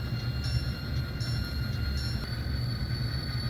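Freight train in an East St. Louis rail yard, a low continuous rumble of rolling cars with faint metallic squeals and tonal ringing overhead, steady and moderately distant.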